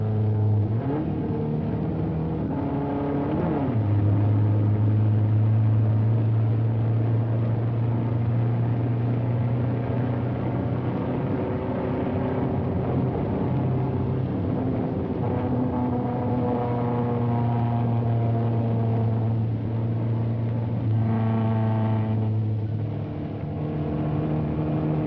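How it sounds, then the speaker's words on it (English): A 1962 Ford Mustang sports car lapping the closed-circuit road course at Daytona Beach, its engine droning steadily with pitch rising and falling through shifts and corners, continuous and alone for about twenty-five seconds. "As a sports car, the Mustang demonstrated excellent roadability on the closed-circuit road course at Daytona Beach"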